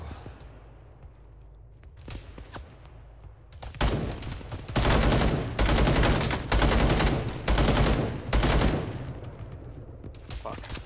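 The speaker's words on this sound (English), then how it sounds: "Some shots to the west out far in that forest." Bursts of gunfire in an ArmA 3 combat game, a dense barrage of shots in several loud waves mid-clip, with quieter scattered reports before and after.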